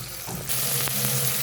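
Tomatoes sautéing in a pan for chicken masala, a steady close sizzle that swells louder halfway through with a faint stir or two.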